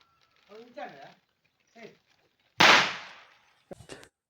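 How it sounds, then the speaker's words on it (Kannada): Firecracker burst at an evening Deepavali celebration, one loud sharp crack with a brief decaying tail, followed by a couple of smaller pops; people talk quietly beforehand. "ಬಂಬೆ ಇಟ್ಟ ತಕ್ಷಣ ತಮ್ಮ ಪಟಾಕಿ ಹೊಡಿಲಿಕ್ಕೆ ಸ್ಟಾರ್ಟ್ ಮಾಡಿದ."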